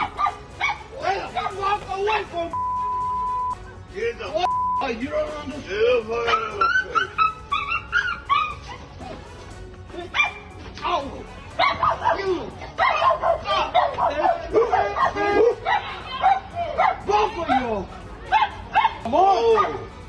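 A dog barks, yips and whimpers repeatedly amid excited human chatter and shouting, after it attacked another dog, with irregular bursts throughout and a steady tone beeping briefly near the start.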